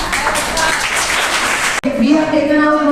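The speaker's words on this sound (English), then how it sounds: "So again a big round of applause for 3 of them." Applause rises from an audience at a school elocution competition, a dense patter of many clapping hands for about two seconds before it cuts off and a voice begins speaking.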